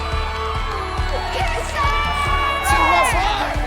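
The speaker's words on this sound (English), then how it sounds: "the crowd goes wild" Studio crowd at a reality dating show wedding cheers, whoops and yells wildly over a steady thumping music beat, loud and sustained, with excited shouts rising near the end.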